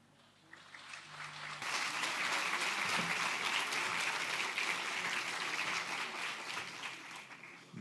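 An audience at a conference breaks into applause, swelling quickly from scattered claps to a loud, dense, sustained ovation that holds for several seconds before gradually thinning out.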